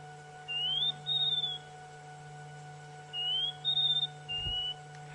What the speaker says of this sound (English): Now that's almost certainly a scrub robin.